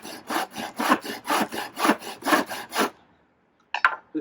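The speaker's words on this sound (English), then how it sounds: "The thing with sawing lumber with a handsaw, people often get stuck halfway in." Handsaw cutting through lumber while building a budget greenhouse, a steady run of about a dozen rasping back-and-forth strokes, close and loud, then a pause and a brief final stroke.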